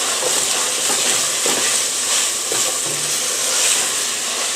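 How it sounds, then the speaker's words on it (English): Food is stirred in a greasy pan to keep it from sticking to the bottom, with a loud continuous sizzle and hiss close by and faint scraping knocks now and then. "So I'm going to continue to stir it, that way it doesn't stick to the bottom of the pan."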